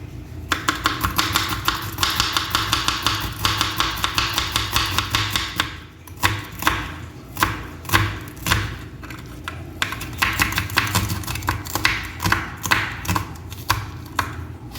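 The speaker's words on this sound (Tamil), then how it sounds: "ஸோ வெங்காயம் கட் பண்ணிடுச்சேன்" Rapid, rhythmic knife chopping of onions on a board, steady fast taps at first, then slower, heavier strokes with short pauses before the quick rhythm resumes, close and distinct.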